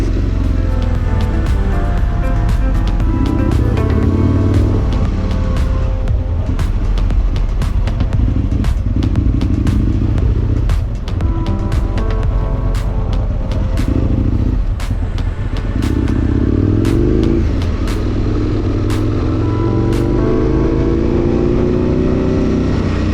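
An Aprilia Futura RST sport-touring motorcycle on the road, its engine droning steadily at moderate revs with wind rush and occasional clatter, loud and continuous throughout without any speech.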